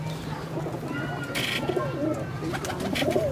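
Soft cooing of highflying pigeons repeats in the background in Sadiqabad, Rawalpindi, mixed with rustling and a low steady hum, with faint voices nearby.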